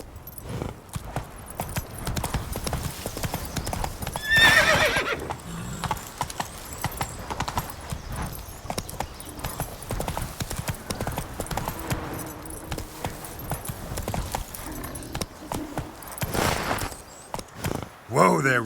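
In The Witcher video game, Roach the horse's hooves clip-clop in a steady walking rhythm, with occasional snorts over game ambience and someone talking intermittently.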